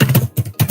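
Keys on a computer keyboard clack up close, three loud, quick strokes in an uneven rhythm with brief gaps between them.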